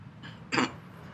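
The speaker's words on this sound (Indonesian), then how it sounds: "Sorry saya agak batuk ya." A single short, harsh cough bursts out once in a quiet room, close and moderately loud, preceded by a faint breathy sound.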